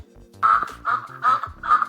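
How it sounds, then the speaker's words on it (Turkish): Four loud, nasal quacks in a steady rhythm, close by and alone, with no talking. "Bu bir ördek."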